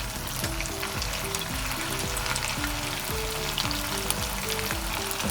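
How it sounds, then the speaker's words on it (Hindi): Potato triangles fry in hot oil with a steady, loud, dense sizzle and crackle, and soft tapping and stirring knocks repeat underneath. "अब मैं ना इसको पोटैटो ट्रायंगल को ना डालने लगी, फ्राई करने लगी।"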